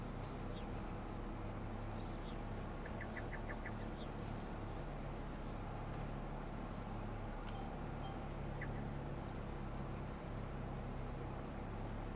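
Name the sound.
birds in the Farming Simulator 25 video game map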